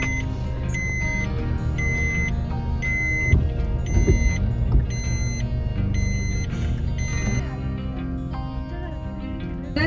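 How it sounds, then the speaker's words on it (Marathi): A steady road rumble of idling and creeping vehicles, with repeated horn beeps and electronic tones sounding throughout. "ट्रॉफिक जाम झाली इथे."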